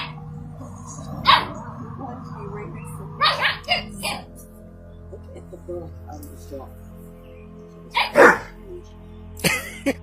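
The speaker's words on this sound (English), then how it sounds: "This big dog showed this little dog what a real bark is supposed to sound like." A big dog lets out a few loud, sharp barks, spaced several seconds apart against a steady background hum, with a person's voice murmuring in places.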